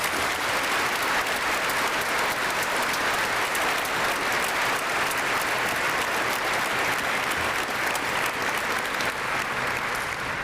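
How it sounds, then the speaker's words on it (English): Audience applause at a CTE completion ceremony at the Southern Adirondack Education Center, a loud sustained round of dense clapping that holds steady for about ten seconds. "join me in a resounding round of applause for Mr. Dexter"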